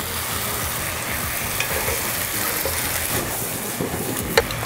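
Bean sprouts and water parsley stir-fry in a pan with a loud, continuous sizzle, scraping stirring noises and a few sharp clacks, with no voices.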